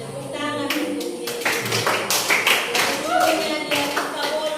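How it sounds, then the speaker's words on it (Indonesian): Scattered clapping from a small classroom group breaks out in uneven bursts, irregular sharp claps mixed with taps and overlapping voices. "tepuk tangan untuk dia"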